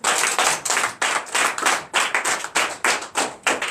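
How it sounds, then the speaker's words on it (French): Church congregation at a Sunday worship service in Benin clapping together in a steady rhythmic beat, close and loud, roughly two to three claps per second with no talk. "Donnez l'acclamation à Christ."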